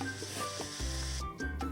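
Three whole chickens sizzle directly over lump charcoal, hanging in a Weber Smokey Mountain cooker on a rib hanging rack; a steady close crackling hiss runs throughout with a low hum beneath.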